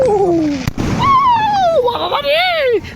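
A sharp bang goes off early, followed by high whistling tones that sweep up and down, like Diwali firecrackers exploding and screeching rockets nearby in a Guwahati city centre.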